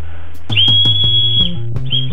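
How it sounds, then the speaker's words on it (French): Small plastic safety whistle clipped to a sports vest, like those on life jackets, blown loud and close in two shrill blasts, a long one then a short one, with no talking. "vous voyez, il y a un petit sifflet"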